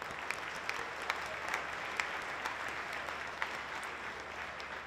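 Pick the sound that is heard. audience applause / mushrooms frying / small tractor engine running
audience applause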